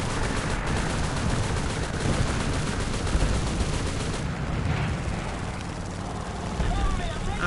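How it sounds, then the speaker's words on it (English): Aircraft gunners in a flight video game fire bursts at a Japanese plane, with rattling gunfire over a loud, constant engine roar. A player talks over it. "at least you got to see the gunners in action"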